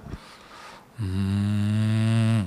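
During a church worship service, a voice imitates a cow's moo: one long, low, steady drawn-out call after a brief quiet moment, loud and close.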